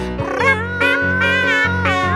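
Voices imitate cat meows, sung in four drawn-out, tuneful meows over steady musical backing.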